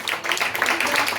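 Audience applause at a literary conference, brisk continuous clapping from a crowd, loud and close, in a short burst.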